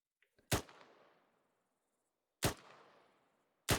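Three separate gunshots during military training, each a sharp crack with a short fading echo, spaced unevenly about two seconds and one second apart against silence.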